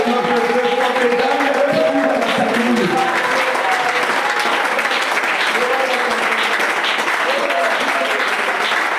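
A church congregation applauds and cheers loudly and continuously, with raised voices and shouts mixed into the steady clapping throughout.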